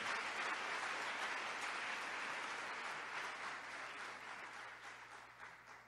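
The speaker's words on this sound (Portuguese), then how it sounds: "Dê um aplauso à palavra do Senhor" A church congregation gives a long round of applause after a scripture reading, dense and even clapping from many hands that slowly fades toward the end.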